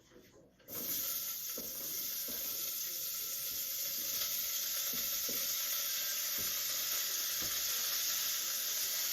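After a brief quiet, celery, garlic and onions hit a hot soup pot for keto chicken tortilla soup. A sudden, steady sizzling hiss follows with faint occasional taps, and it stays fairly quiet and even throughout.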